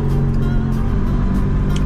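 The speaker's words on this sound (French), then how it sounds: "Au niveau du bruit moteur, il s'est atténué parce que ça fait quelques minutes que je roule" A running Microcar Dué Must Progress, a small license-free car, heard from inside while driving: a steady, loud low engine drone and road rumble with no breaks.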